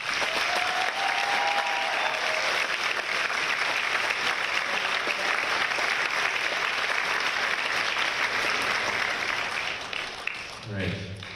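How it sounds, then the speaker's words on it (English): An audience at a National Signing Day ceremony for East Tennessee high school athletes at Farragut gives a long, loud, steady round of clapping that fades out near the end. "If I can invite everybody to give them one more round of applause."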